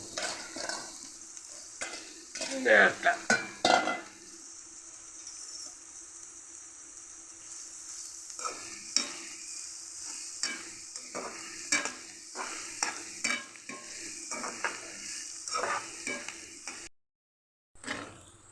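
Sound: onions frying and being stirred in a pan

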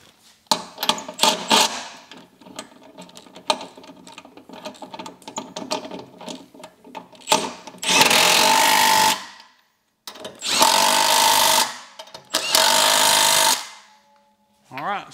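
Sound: tightening lug nuts on Jeep Wrangler spare tire

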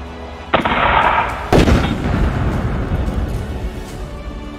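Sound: gunfire in a battle

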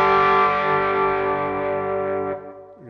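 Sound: electric guitar chord through Overdrive Pro distortion pedal

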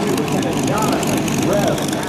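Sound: F-15 Eagle fighter jet flying at an airshow

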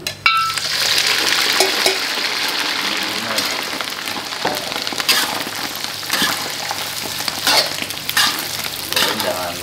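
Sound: frying chili in a pan

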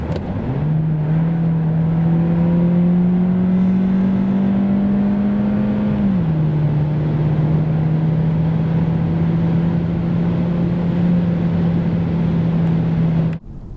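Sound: Volkswagen T-Roc 1.5 TSI car accelerating

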